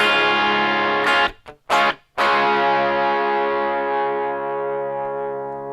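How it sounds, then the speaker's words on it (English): Electric guitar with a Guyker Les Paul style humbucker played through pedals, including a Blues Breaker style overdrive: a loud, distorted sustained chord is cut by two quick stabs, then rings on and slowly decays. "show you some tones that this humbucker can offer"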